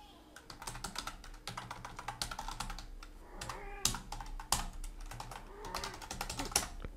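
Rapid clicking keystrokes on a computer keyboard as an email address is typed, close and quiet, in uneven bursts with a few louder key presses.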